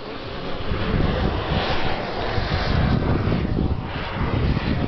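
A twin-turbine model jet aircraft takes off and flies overhead at a jet model airshow, a steady, loud turbine roar with broadband rushing noise that swells and shifts as it passes.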